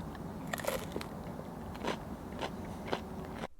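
Crunchy bites into a Barstool two-cheese one-bite frozen pizza that has cooled stiff, a few sharp cracking crunches spaced about a second apart, close up over faint background hiss.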